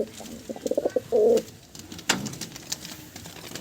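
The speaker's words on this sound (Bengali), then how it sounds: "এই যে এক জোড়া সবুজ পায়রা" Two green pigeons coo close by in short, separate low bursts, one fuller call in the middle and a fainter one near the end, with no voice over them.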